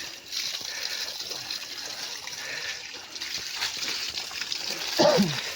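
Water trickles and splashes steadily as people wash their hands and feet outdoors, a continuous moderate gush with a brief voice near the end.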